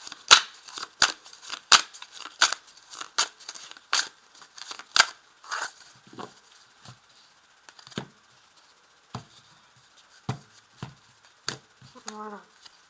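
A tarot deck is cut and handled by hand at a table, giving a run of crisp card slaps and flicks, rapid at first and then sparser, close and fairly quiet, with a few soft murmurs between.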